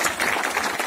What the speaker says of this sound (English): I'd like you to applause for both of them